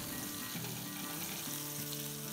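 Chicken malai pakora mixture frying in a pan, a steady close, dense sizzle that runs without a break and has no speech over it.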